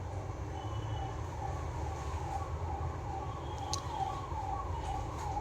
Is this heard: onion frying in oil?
no